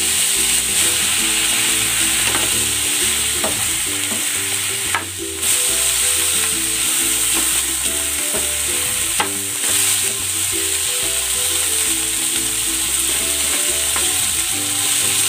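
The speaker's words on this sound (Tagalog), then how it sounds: "Igigisa ko na rin itong pork." Pork sautéing in a pan, a steady loud sizzle with frequent stirring scrapes and clinks throughout, alone with no talk, while faint background music plays.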